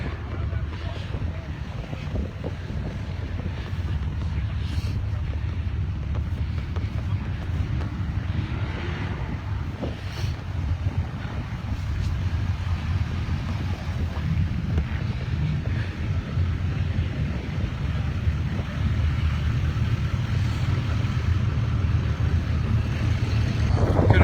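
Strong wind buffets the microphone outdoors at a race pit area, a continuous low rumbling roar that builds slightly toward the end, with faint talk underneath.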